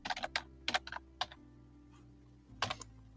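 Quick keystrokes on a computer keyboard come in several short bursts with a pause in between, close and fairly quiet, as a web search is typed.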